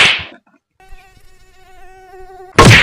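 A mosquito whines in a thin, steady, close buzz lasting about two seconds, with sharp bursts of noise just before and after it.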